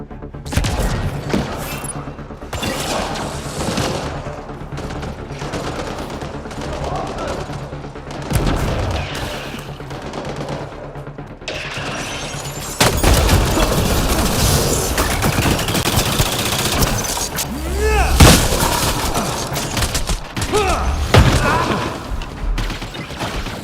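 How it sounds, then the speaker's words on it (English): Combat in the video game Mass Effect Andromeda erupts with loud explosions, booming blasts and rapid bursts of gunfire, dense and continuous with sharper, heavier impacts in the second half. "That's an explosion!"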